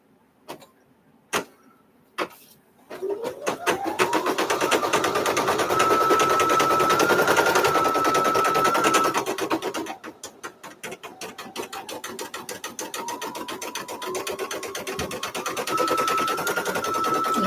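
An embroidery machine stitches a bunny design. A few isolated clicks come first, then a fast, steady mechanical stitching chatter with a whining motor tone. It pauses briefly partway and then resumes, close and loud.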